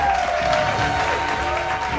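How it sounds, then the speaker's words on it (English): A crowd breaks into applause at a school celebration, a dense, steady wash of clapping that holds for about two seconds over a faint tonal backdrop. "the crowd erupts in applause"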